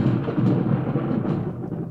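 A thunder rumble layered onto a gunshot effect to make a single, heavier impact: a dense, loud, sustained low roar running steadily for the full two seconds with no gaps.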